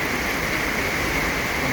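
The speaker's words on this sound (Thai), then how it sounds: "เบิ่งเข่านาโดนฝน" Heavy rain pours steadily onto a rice field, a dense continuous hiss of drops on water and plants with no pauses, close and loud throughout.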